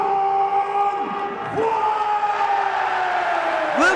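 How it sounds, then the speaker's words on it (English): Loud arena crowd at a Pride 19 MMA event featuring Ken Shamrock versus Don Frye, a steady roar with cheers and whoops swelling throughout, with no talk over it. "Listen to that crowd."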